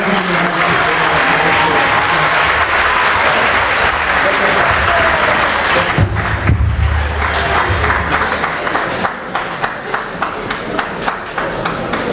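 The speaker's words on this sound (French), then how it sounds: "Merci encore des applaudissements au professeur Massamba Gueye." A crowd at the Dakar international literature festival applauds Professor Massamba Gueye after his inaugural lecture: full, steady clapping that thins toward the end into scattered individual claps.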